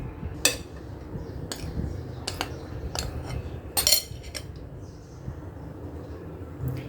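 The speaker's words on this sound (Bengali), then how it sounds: "এক সাইড থেকে ঘোরাচ্ছি মেশাচ্ছি" A utensil stirs dry ingredients into cake batter in one direction inside a bowl, making soft scraping with scattered light clinks against the side, close by and fairly quiet, with no voices.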